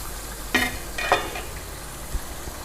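An egg omelette with ridge gourd (turai) cooks in a pan, giving a soft background sizzle broken by a few brief stirring scrapes and clinks. No one speaks.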